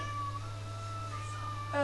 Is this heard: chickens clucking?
no